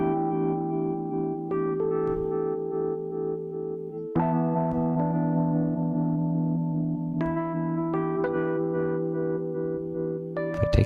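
Rhodes electric piano chords thickened with a Kush UBK-1 density processor ring out in sustained, dense mid-range tones, changing chords every few seconds, loud and steady with no talking.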